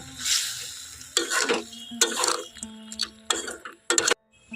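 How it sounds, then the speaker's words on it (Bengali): Fried bitter gourd is stirred into boiled potatoes in a pan, short bursts of scraping and soft sizzling from a spoon, with quiet gaps between strokes. "উচ্ছেগুলো দিয়ে এখন ভালোভাবে মিক্সড করে নেব"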